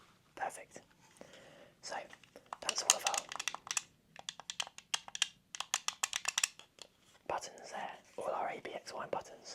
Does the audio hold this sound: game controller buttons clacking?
yes